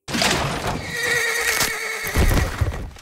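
A horse in pain whinnies loudly and shrilly up close, a long strained neigh, with a few hoof thumps and scuffling underneath.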